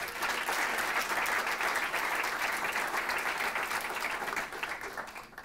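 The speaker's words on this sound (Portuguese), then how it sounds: "Uma grande salva de palmas para o Ruben Branco." An audience at a stand-up comedy show breaks into loud, sustained applause, a dense wash of clapping that holds steady and tapers slightly at the end, with no speech over it.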